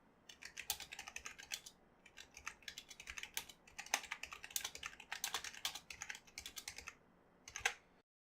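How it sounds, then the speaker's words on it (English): Fast, steady typing on a Cougar Deathfire mechanical gaming keyboard, with dense clacking keystrokes in uneven bursts and brief pauses. The sound is close, moderately quiet and heard alone. "Here is a typing test so you can hear the switches."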